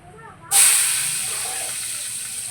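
Chopped onions hit hot oil as the tempering starts for a village-style fish curry, bursting into a loud, bright sizzling hiss that settles into a steady crackle.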